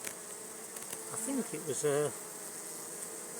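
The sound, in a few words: honey bees buzzing at a beehive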